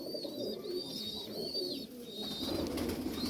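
A Chatwala pigeon coos in soft, repeated low murmurs close by, with faint chirps and a steady background hum in the loft.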